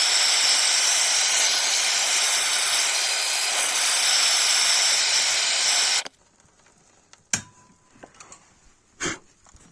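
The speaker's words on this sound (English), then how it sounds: "now I'm going to apply some heat. So I've got a MAP gas burner" A MAP gas burner heats a Ford Kuga Mk1 front subframe bush with a loud, steady roaring hiss for about six seconds. The flame then cuts off, leaving quiet room tone broken by a few sharp metallic clicks and knocks.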